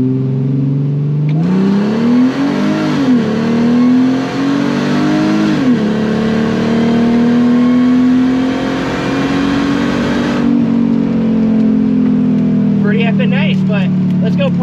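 A car pulls hard through the gears, engine rising in pitch, dropping at each shift and then climbing again, loud and close from inside the cabin, with a voice talking over it near the end. The car was modified with bigger intercooler lines.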